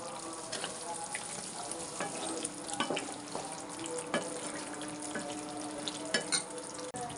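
Bread halwa is stirred in a pan after milk is poured in, giving a soft, continuous sizzle with irregular scraping clicks from the spoon, with no talking.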